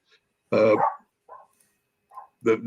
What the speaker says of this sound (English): I have a dog going crazy in the background